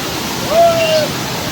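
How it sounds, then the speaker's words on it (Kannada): Achakanya waterfall in dense Western Ghats forest near Aralasurali village, Thirthahalli, gives a steady, close, broadband roar of falling water throughout, with a faint whistle-like tone rising briefly in the middle. "ಇಷ್ಟು ಚೆನ್ನಾಗಿರೋ ಅಂತ ಫಾಲ್ಸ್ ಇದು."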